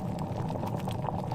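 A Netta travel kettle brings water to a boil with its lid open, giving a steady close rumbling, bubbling hiss with no talk over it.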